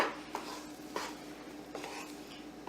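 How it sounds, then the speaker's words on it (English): A spoon stirs melting butter and chopped onion in a pot, making soft scrapes at a steady, unhurried pace over a faint sizzle, quiet and close. "Just mix our butter around,"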